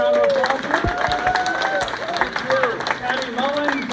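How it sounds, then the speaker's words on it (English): A film convention panel audience applauds for the Frankenhooker cast, with broadband clapping and crowd noise running throughout under overlapping voices. "I think we deserve a round of applause."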